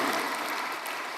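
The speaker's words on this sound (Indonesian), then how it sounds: "Ayo tepuk tangan buat Tuhan dulu" A church congregation claps together during a worship service at Gereja Bethany Nginden, a dense, steady burst of applause filling the room for just over a second.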